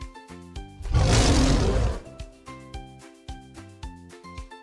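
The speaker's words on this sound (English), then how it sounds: "It's a lion." A lion gives one loud, rough roar lasting about a second, set against a bright, plinking children's melody that keeps playing before and after it.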